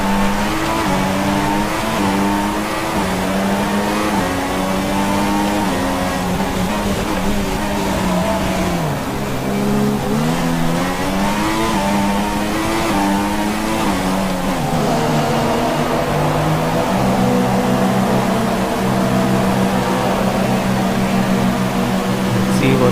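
An F1 car in the racing game F1 2016 pulls in for a pit stop at the Shanghai GP, its engine note holding steady and then dropping to a lower idle-like hum, loud and continuous throughout.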